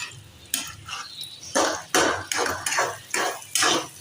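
A spoon scrapes and clinks against a kadhai as egg khagina is stirred in oil, with about eight distinct rhythmic scraping strokes, close and moderately loud, and no talking.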